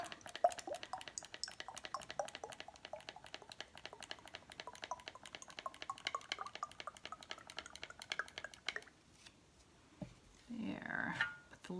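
V6 vegetable complex oil poured into a small bottle to top it off, a thin trickling drip stream running for several seconds before it stops, followed by a brief rustle.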